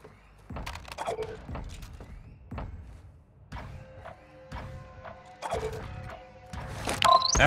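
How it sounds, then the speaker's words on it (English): Weapon handling in Call of Duty: Modern Warfare II with an MP5, a run of sharp mechanical clicks, clacks and thunks spaced through the clip, close and fairly quiet, ending in a louder metallic clatter. "Switching mags."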